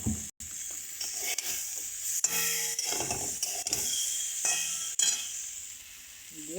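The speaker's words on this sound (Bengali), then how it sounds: "ওর মধ্যে এবার ফুলকপিগুলো দিয়ে দেব" Cauliflower florets tossed into hot, sizzling masala and stirred in a pan, with a steady bright frying hiss throughout and scraping, clattering stir strokes, close and fairly loud.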